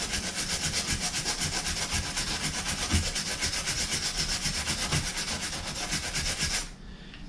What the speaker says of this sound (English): I quite like a little wire brush and a bit of Scotch Brite